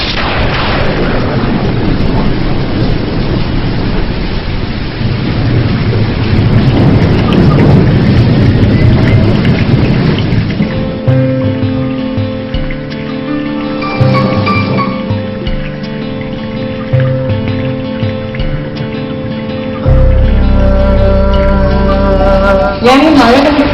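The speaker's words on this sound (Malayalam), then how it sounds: "ഇടിവെട്ടിയുള്ള മഴയും അതിന്റെ ഒരു ഫീലും." Thunder rumbles and booms through steady rain at first, loud and deep, before the scene gives way to music.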